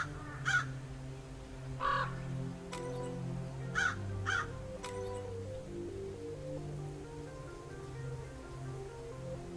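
Crows caw in Dracula's Legacy, a hidden object adventure game: four or five harsh, separate calls spaced a second or two apart over a low sustained musical drone.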